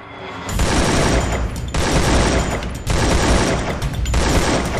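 Sustained bursts of rapid automatic rifle gunfire in the video game Free Fire, three long volleys in a row with brief gaps, loud and dense.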